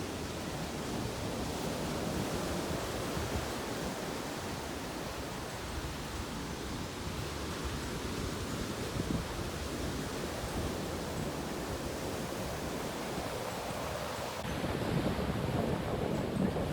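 Ocean surf on the Cornish shore below the coastal path between Bude and Penhalt Farm, a steady distant roar of breaking waves mixed with wind buffeting the microphone, continuous for the whole stretch.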